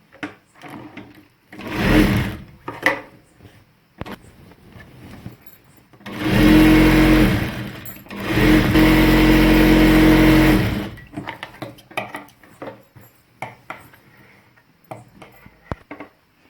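Sewing machine stitching the centre seam of a simple salwar with pocket, heard in two loud bursts of steady whirring, a short run and then a longer continuous one, with quieter handling clicks between.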